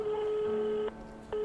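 Telephone tones in steady beeps, one long tone broken by a short gap before another starts, heard clearly and alone.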